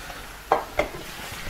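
Curry with lemon juice is stirred in a frying pan, giving two quick scraping strokes over a faint, steady sizzle, close and fairly quiet.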